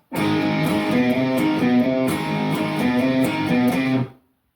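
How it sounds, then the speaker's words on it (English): Electric guitar plays a bouncy blues rock run, a clean, rhythmic riff of repeated note patterns that rings out alone and stops abruptly. "Cool little blues rock run."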